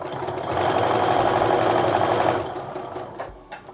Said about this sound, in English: I set my sewing machine back to a regular quarter inch stitch from here on out